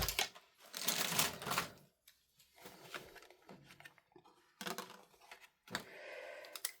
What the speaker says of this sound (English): So we'll quickly cut these out.